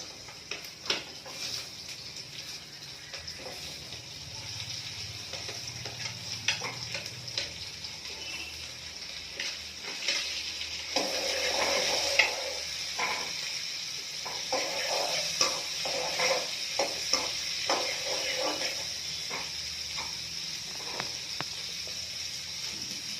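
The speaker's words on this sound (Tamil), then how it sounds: "வெங்காயம் போட்டுட்டு வெங்காயம் வந்து பார்த்தீங்கன்னா பச்சை ஸ்மெல் போகிற அளவு வந்து நல்லா அதை ஃப்ரை பண்ணிக்கணும்" Onions fry in a pan for paneer butter masala with a soft, steady sizzling hiss. Scattered crackles and stirring clicks run through the hiss, which grows a little busier partway through, with no talk.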